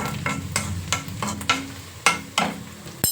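Mustard-seed tempering sputters and crackles in hot oil in a pan, with sharp popping bursts at irregular intervals over a steady low sizzle, close and moderately loud.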